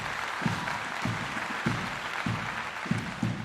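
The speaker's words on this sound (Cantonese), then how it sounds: "大家俾啲熱烈嘅掌聲，我哋嘅得獎同學。" An audience at a school STEM awards ceremony claps for the winning students, steady hand claps rising in several bursts across the room, with a presenter's voice faintly underneath.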